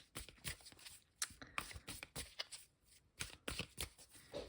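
Tarot cards being riffled and shuffled in quick bursts, crisp papery flutters with short pauses between, close up and fairly quiet.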